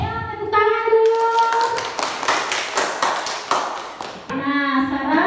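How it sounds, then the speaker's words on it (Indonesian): Children in a classroom clap their hands together in a quick, dense burst lasting a few seconds, with young voices talking and chattering before and after the clapping. "Ayo tepuk tangan dulu."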